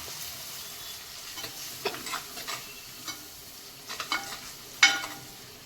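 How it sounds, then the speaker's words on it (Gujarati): A spatula scrapes and taps through a spice mix of turmeric and garam masala in a cooking pan, irregular clicks and scrapes over a soft sizzle, with one sharp metallic tap near the end. "હવે આ બધું મિક્સ કરી દઈશું।"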